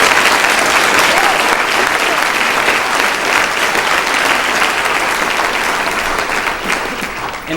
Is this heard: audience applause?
yes